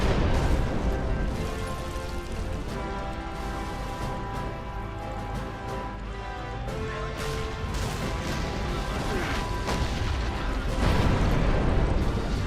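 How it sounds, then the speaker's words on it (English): An explosion from a tank battle video game involving a King Tiger gives a dense, loud, sustained rumbling crash with scattered bursts and mechanical clatter layered throughout, with no voices. "Holy crap, look at that explosion."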